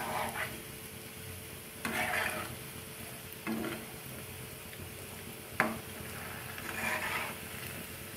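Semolina chomchom frying in oil in a pan is shaken and turned without a spatula, giving a soft continuous sizzle with a few louder rustling swishes as the pan is jostled. It is close and quiet, with no talk.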